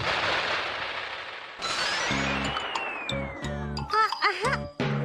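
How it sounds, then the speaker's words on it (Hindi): A burst of cartoon fireworks: a sharp bang followed by a descending whistle and crackling pops, with bright tonal chimes layered over the bursts. "मैंने कहा था ना कि सुंदर आतिशबाजी दिखाई देगी।"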